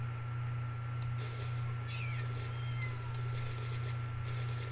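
Jungle cats in the video game Meowcenaries, several short meows heard over a steady game background hum, fairly faint and spaced apart.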